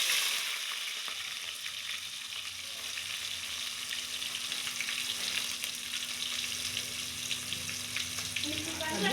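Onion frying in hot oil with popped mustard seeds and cumin for a Tamil bottle gourd poriyal, a steady close sizzle with some stirring, alone with no talk.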